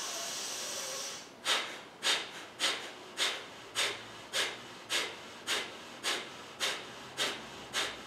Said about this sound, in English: Let's go for our next cycle, 100 exhalations.